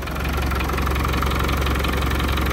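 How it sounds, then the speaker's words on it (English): Land Rover Defender 300Tdi diesel engine idling after a crankcase breather filter job, a steady, loud, close mechanical clatter with a constant low rumble throughout and no voices. "just got the engine ticking over"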